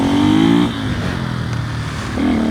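Motorcycle engine revving hard to heat the tyre, a loud rising drone that drops off, settles into a rough idle, then swells again near the end.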